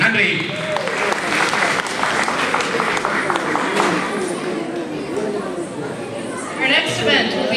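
An audience applauds after a Bharatanatyam dance performance, a sustained wash of dense clapping with crowd chatter mixed in throughout.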